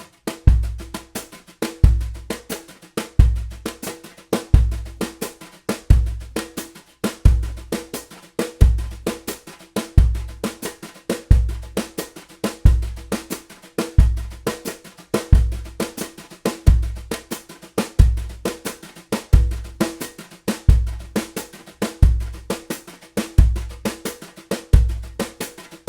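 A drum kit plays a steady samba with brushes, sixteenth notes swishing under regular accented strokes and a low repeating bass-drum pulse, even and continuous with no talk.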